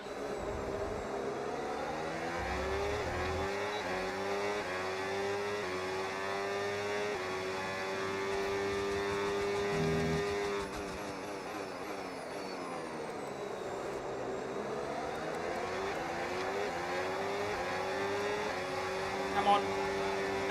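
F1 race car engine in the F1 26 game, a steady high engine whine with slow pitch sweeps through gear changes, holding at moderate loudness for the whole stretch.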